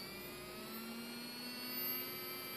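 A brushless DC motor spins at high speed, likely past 3000 RPM, with its spindle slightly unbalanced by ink on it. It makes a steady, fairly quiet whine with tonal harmonics. The pitch holds nearly constant, with a slight swell in loudness near the end.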